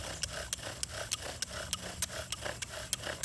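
A bow drill spindle grinds against a fatwood fireboard in quick, even back-and-forth strokes, each pass marked by a sharp squeaky rasp, close and on its own.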